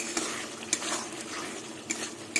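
Mung dal with eggplant, ginger and cumin sautéed in mustard oil, a soft continuous sizzle broken by a few sharp clinks of a spoon stirring against the pan.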